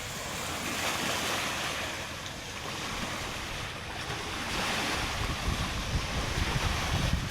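A strong northeast monsoon wind blows over the open sea around a seaweed farm, roaring steadily and loudly with surf and wave wash underneath and no pauses.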